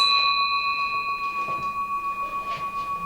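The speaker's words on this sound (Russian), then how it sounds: "Вот этот колокол, он продолжается, этот звон." A living bell rings with a sustained, shimmering tone that hangs steadily and pulses gently as it fades slowly, clear and fairly close.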